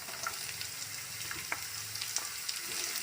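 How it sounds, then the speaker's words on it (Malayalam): Chopped onions sizzle steadily in a hot pan for a chicken gizzard roast, a continuous close hiss with scattered pops and a few soft stirring scrapes. "ഇതിലേക്ക് നമുക്ക് അരിഞ്ഞു വെച്ചിട്ടുള്ള സവാള ഇട്ട് കൊടുക്കാം"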